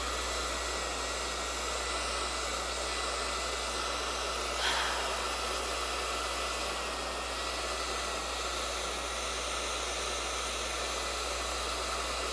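A force machine blows a steady stream of air to keep a ball floating, giving a constant broadband whoosh like a hair dryer that runs alone and evenly throughout, with one brief swell midway.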